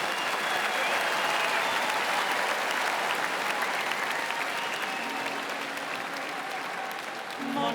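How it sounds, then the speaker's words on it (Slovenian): A concert audience at a Slovenian folk music evening gives strong, sustained applause honoring a mountaineer, a dense even roar of clapping throughout that softens slightly near the end. "Močan aplavz za našega alpinista"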